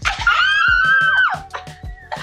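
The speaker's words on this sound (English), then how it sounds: "Synchronized screaming." Two people scream together in sync, a loud sustained high-pitched cry lasting about a second, followed by excited chatter.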